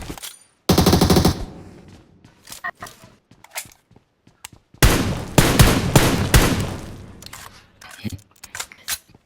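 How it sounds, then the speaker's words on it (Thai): Loud gunfire bursts from the PUBG battle royale game, with a shotgun in use: a dense opening volley, scattered lighter shots, then a longer heavy barrage, while voices talk in between. "ลูกซองกูยิงดักเลยละ"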